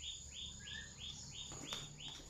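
A young dove calling repeatedly in an evenly spaced run of soft cooing notes, fairly faint but clear, with a brief louder tap partway through and no talking.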